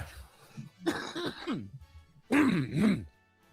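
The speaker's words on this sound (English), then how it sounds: "I gotta clear my throat." Someone clears their throat twice, first with a short rough rasp and then with a louder, drawn-out guttural hack.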